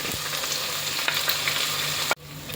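Onions hiss and sizzle steadily in hot oil in a pan, with a faint scrape of stirring, before the frying noise cuts off abruptly near the end.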